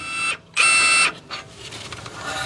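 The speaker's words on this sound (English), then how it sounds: "I'm going to use the heavier duty or the high torque Milwaukee here with the 19mm socket." A high-torque Milwaukee impact wrench with a 19mm socket breaks loose a front brake caliper bolt on a Honda Pilot, firing two loud, harsh bursts, a short one and then a longer one, followed by quieter clatter.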